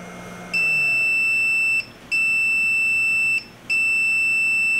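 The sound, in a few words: PolyMaker PolyDryer filament dryer beeping when done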